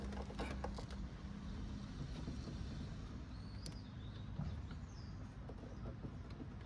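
A 2004 Ford Explorer tail light is worked loose, giving quiet close creaks and squeaking plastic and mechanical scrapes with a few small clicks over a low background hum.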